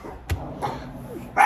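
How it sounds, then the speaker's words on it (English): Dogs bark in a few scattered, moderately loud bursts nearby, with a sharp yip at the start and a louder bark at the end, no voices present. "The dogs are going crazy."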